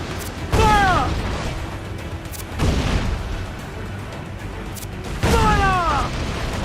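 Ship cannons in Assassin's Creed IV Black Flag fire in three heavy booming volleys a couple of seconds apart, each with a deep blast and rolling decay, while a voice shouts over the first and last.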